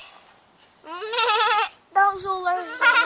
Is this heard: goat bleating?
yes